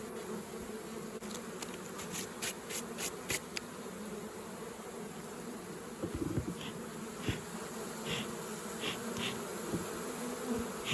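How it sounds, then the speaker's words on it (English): A dense, steady buzz of many honey bees swarming in a box trap, droning close by, with occasional louder individual bees passing near amid the constant hum. "I'll have to shake these bees out of here, they're just not moving"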